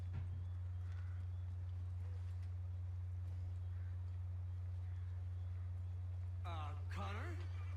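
Horse hooves clop along at a steady gait in Assassin's Creed 3, a faint rhythmic patter under a constant low hum, with a voice speaking near the end.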